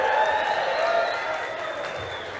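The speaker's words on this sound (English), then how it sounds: "Let's give this gentleman a round of applause" Audience applause and a few cheers for a raffle winner at a ski-shop livestream event, a steady wash of clapping that holds loud throughout and eases slightly toward the end.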